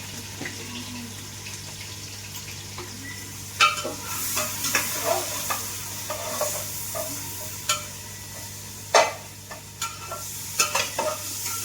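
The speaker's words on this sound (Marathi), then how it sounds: "गोल्डन कलर येईपर्यंत चांगला भाजायचा" Chopped ingredients fry and get stirred in a pot, a steady low sizzle broken by irregular scraping clatters of a spoon against the metal, close and fairly loud with no talking.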